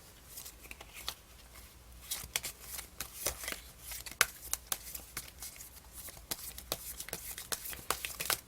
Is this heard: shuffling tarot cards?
yes